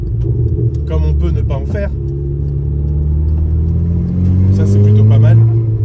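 A car engine with a valved exhaust, valve open, rumbles loudly with deep exhaust tone, swelling into a stronger rev near the end, while someone talks over it.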